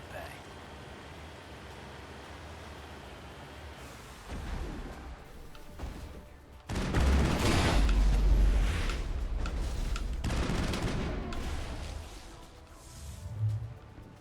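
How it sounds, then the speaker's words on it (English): Video game artillery fire in Mass Effect holding back the Normandy: a dense, rumbling roar that swells partway through into sustained heavy booms and wash of noise, with a low thud near the end. "There's the artillery that's keeping the Normandy at bay."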